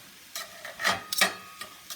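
Chicken, mushrooms and peppers being stirred in a frying pan, with a handful of short utensil scrapes and clinks against the pan over a faint sizzle, close and moderately quiet.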